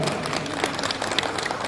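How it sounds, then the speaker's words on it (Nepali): An audience claps at a charter handover and installation program, a short, steady burst of close applause from a crowd, with no talking. "गाइडिङ लाइनलाई जोडेर ताली बजाइदिनु होला"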